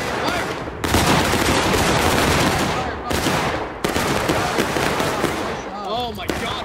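A massed musket volley crashes out in the Civil War video game War of Rights, two long rolling bursts of overlapping shots, loud and dense, with players shouting orders around them.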